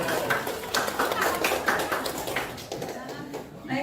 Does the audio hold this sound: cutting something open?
no